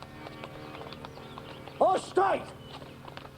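Horse hooves clatter over courtyard ground in a staged audio drama, a faint steady clip-clop running beneath loud shouted dialogue.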